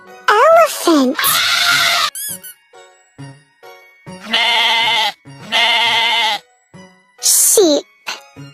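A sheep bleats repeatedly in loud, wavering calls, several long quavering bleats spaced by short pauses, close and clear with no talking over them.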